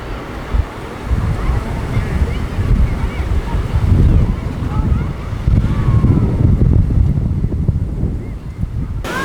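Waves washing onto the East Beach of Lake Ontario in Canada, a broad low surf rumble rising and falling in slow surges, with heavy wind buffeting the microphone and no clear voices.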